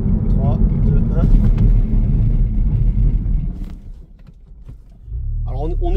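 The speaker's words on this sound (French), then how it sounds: "On va faire un petit freinage, aller de 70 à 0 pour voir la performance du frein" A Ford Puma ST on winter tyres brakes hard from 70 to a stop, a steady loud low road-and-engine rumble fading as it slows, then a lower idle hum near the end, with a voice talking over it.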